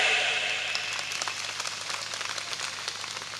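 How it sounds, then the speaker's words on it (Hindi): An audience claps in sustained applause at a live 2022 bhajan performance by Om Ji Mundel, a dense crackle of many hands that is strongest at the start and slowly thins out. "सही है तो ताली बजाए"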